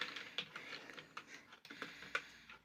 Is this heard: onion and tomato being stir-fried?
no